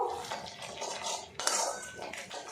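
Spice paste with a little sugar being stir-fried in a pan for a soybean and potato curry, with a spatula scraping and clinking against the metal in quick irregular strokes, close up and fairly quiet.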